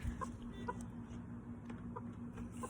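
A silkie chicken in a nesting box makes soft, faint clucking coos in short repeated notes over a steady low hum, close by and with no talk.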